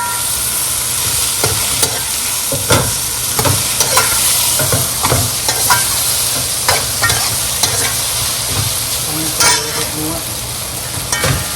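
Pasta being tossed and stir-fried in a pan over low heat for vegetable lo mein gives a steady sizzle, broken by repeated scraping and stirring clatters throughout, fairly loud and close, with no talk.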